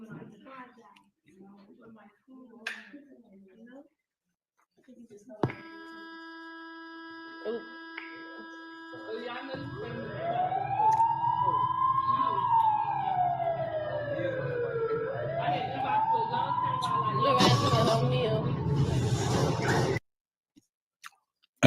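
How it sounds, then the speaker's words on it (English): An emergency siren rises and falls in long, slow wails that grow to a loud, sustained cry and then cut off abruptly. Faint indoor sounds and soft murmuring come before it. "You heard the siren go off."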